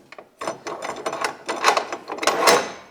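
Quick-release teeth on an Evolution chop saw vise ratcheting and slipping, a close run of uneven clicks and grinding rattles over a few seconds.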